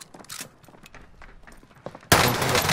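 Gunfire in the video game Call of Duty: Modern Warfare, with scattered sharp clicks and shots leading into a sudden loud burst of dense firing that continues to the end.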